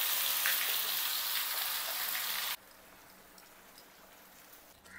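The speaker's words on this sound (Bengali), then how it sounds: "এই যে গরম তেলের মধ্যে এটা দিয়ে দিচ্ছি" Spices hit hot oil in a kadai for a moringa leaf and red lentil dal, giving a loud, close sizzling hiss that cuts off abruptly midway and leaves a faint background.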